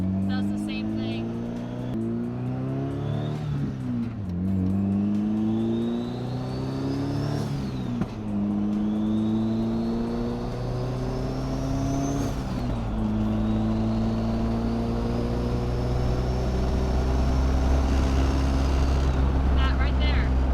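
An SR20-swapped Miata with a rear end vibration drives on the road, its engine note rising and falling through repeated gear changes, loud and close from inside the car.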